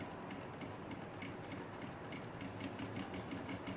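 A sewing machine stitches a finishing seam along the edge of a placemat. It makes a steady, continuous mechanical whir with a fast, even rhythm, close up and alone, with no talking.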